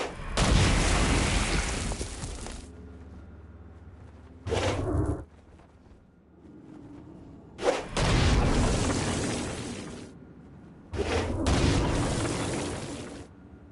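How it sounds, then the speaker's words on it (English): Stone Blast explosions against flying demons in a hell-themed video game, several heavy blasts in separate bursts, the first long and rumbling, later ones shorter, with quiet gaps between. "Stone Blast is especially useful on flying demons like this one."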